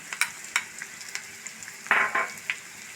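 Sliced onions frying in a pan as the base for a Kerala pork roast, with a low sizzle broken by sharp ticks and crackles and a louder scraping stir burst near the end, no voices present.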